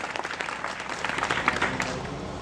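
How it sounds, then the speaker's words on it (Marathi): Audience applause at a Jivaji Mahale birth-anniversary lecture in Lalwadi village, Ambad taluka, Jalna district: a steady, fairly faint burst of many hands clapping that continues evenly throughout, with no talk over it. "एकदा जोरदार टाळ्या वाजवूया"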